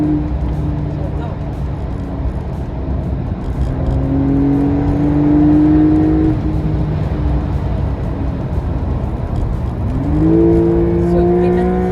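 A 2021 Porsche 911 S rear-wheel-drive sports car engine revving while driving on a winding road, rising and falling in pitch through shifts, with a steady road roar underneath throughout.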